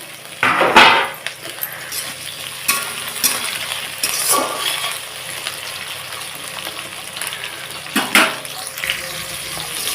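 Chopped tomatoes dropped into onions frying in a pan for a Bengali country chicken curry: loud close sizzling and hiss with bursts as the pieces hit the hot oil and are stirred, alone without talk.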